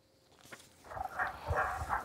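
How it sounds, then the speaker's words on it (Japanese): Tago's brown frog calling from inside a hole beside a mountain trail, a few faint, muffled yelping croaks close together, somewhat like a small puppy. "こちらカエルの鳴き声なんですよ。"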